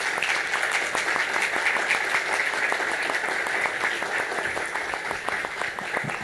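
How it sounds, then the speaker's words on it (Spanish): A large audience at a lecture gives loud, sustained applause, dense overlapping clapping that holds steady throughout with a few voices faintly mixed in. "Fuerte aplauso"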